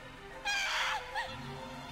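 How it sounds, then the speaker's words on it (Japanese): A woman's brief, shrill scream from the video game Kamaitachi no Yoru, cutting in sharply for about half a second, with a shorter, weaker wail trailing after it over a quiet, moody background. "再び彼女の悲鳴が聞こえた。"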